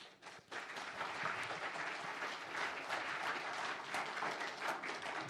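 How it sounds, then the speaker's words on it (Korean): Steady applause from a church congregation fills the room, a dense sustained clapping that continues without a break. "뜨거운 박수로 또 모시도록 하겠습니다"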